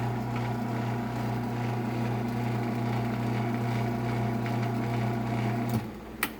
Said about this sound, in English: Might be just the motor coasting.